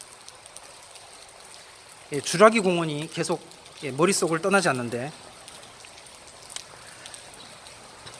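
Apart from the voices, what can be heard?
heavy rain falling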